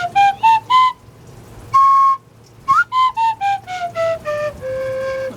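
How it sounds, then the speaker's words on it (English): Tin whistle plays a simple tune, clear and close, with bright sustained notes and short tongued notes in a lively rhythm, some phrases gliding downward, alone without talk. "my parents gave me this awesome tin whistle"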